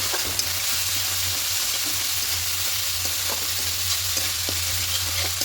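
A spice mix of ground coriander, cumin and a little turmeric being sautéed in a pan, a loud, dense continuous sizzle with faint stirring taps throughout and no voices.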